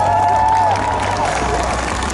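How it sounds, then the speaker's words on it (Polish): An audience at a WOŚP charity concert in Kraków applauds young performers: continuous dense clapping with crowd noise and a voice-like shout at the start, steady and fairly loud throughout. "Brawa dla nich!"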